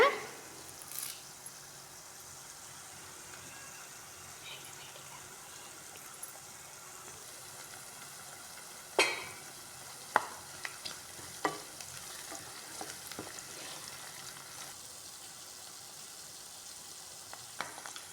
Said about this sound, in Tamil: இப்போ நல்லா வெங்காயம் பொரிஞ்சிச்சு அதுக்கு அடுத்தது கருவேப்பிலை போட்டுக்கோங்க